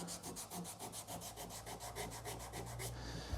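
A rubbery rust eraser block scrubs across grooved diamond-plate metal in a shop, making quick, steady back-and-forth rasping strokes that are close and fairly quiet.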